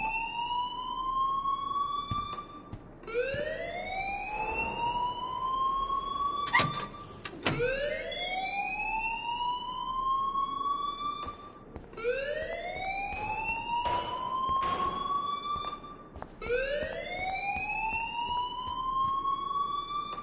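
A looping electronic alarm wails in the video game Life is Strange Remastered, with rising siren sweeps repeating every few seconds over a steady background, with a couple of brief sharp clicks in between.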